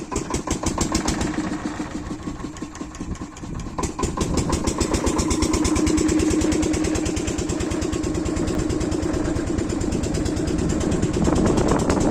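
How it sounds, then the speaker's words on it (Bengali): A motorcycle heading down to the Daroka River crossing runs close by with a steady, rapid throbbing engine that grows slightly louder and then holds a constant note. "না ওই নামছে মোটরসাইকেল"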